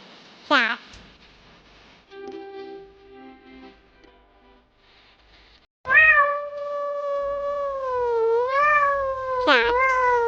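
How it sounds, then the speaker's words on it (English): A cat meows several times, with drawn-out, wavering cries that carry rich harmonics and rise and fall in pitch. Loud, close and clear, with a voice speaking briefly in between. "Cat."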